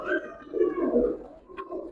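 Racer pigeons coo nearby in a quiet, shaded spot, a few soft rolling calls overlapping in short bursts.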